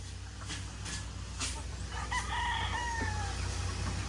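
Chickens on a farm cluck while a rooster crows a drawn-out cock-a-doodle-doo in the middle distance, all over a constant low hum and background noise.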